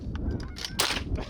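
A shotgun fires during a late-season goose hunt in Ontario, a single sharp report heard at a middle distance over outdoor background noise.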